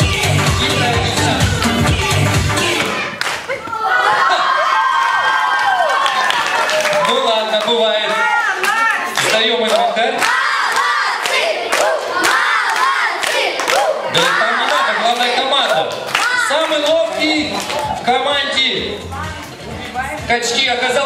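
A crowd of children at a summer camp cheers, shouts and claps loudly and continuously during a biathlon-style game, with a brief dip in the noise early on.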